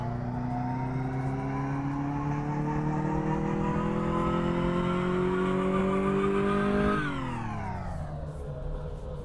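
A sports car engine in Car Mechanic Simulator 2014 revs on a roller dyno, a loud sustained engine tone climbing steadily in pitch for about seven seconds, then dropping quickly as the throttle is released.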